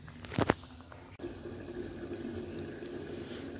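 A covered pot of food simmering in water on a home stove, heard as a soft, steady bubbling hiss after a brief splash and clatter at the start, fairly quiet and close.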